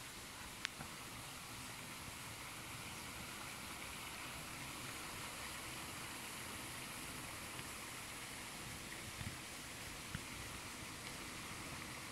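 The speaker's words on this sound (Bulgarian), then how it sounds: "Хотнишки водопад." Hotnishki waterfall in November, a steady broadband rush of falling water filling the whole stretch evenly, constant and moderately loud with no voices.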